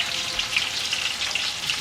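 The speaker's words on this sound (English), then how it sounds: "So I'm just gonna brown everything up like that." Garnishing onions for pilau browning in a hot pan, a steady close crackling sizzle with scattered pops running throughout, with no voices.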